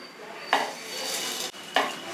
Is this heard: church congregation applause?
no